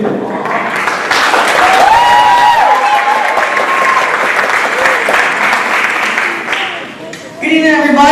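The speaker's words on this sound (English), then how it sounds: "let's put our hands together one more time for Toastmasters and the Alpha Battalion" An audience applauds loudly and continuously at a Toastmasters evening event, a dense wash of clapping with some cheering and a voice calling out over it, tapering off before the clapping briefly rises again at the end.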